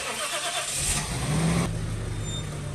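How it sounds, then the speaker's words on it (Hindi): A Dera car washer pressure machine runs in a garage, its motor whirring loudly and rising in pitch before settling into a steady hum, with no voices. "डेरा का जो है वो कार वॉशर है और अभी हमने इसको स्टार्ट कर दिया है।"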